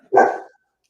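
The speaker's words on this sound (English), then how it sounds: "My dog has discovered something outside." A dog gives a single sharp bark at something outside, close and loud, followed by silence.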